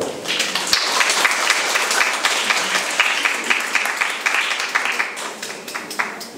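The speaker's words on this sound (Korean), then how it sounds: "큰 박수 부탁드립니다." Sustained applause from an audience at the 29th Korean Pastel Painting Competition award ceremony, a dense steady wash of many hands clapping for several seconds without pause.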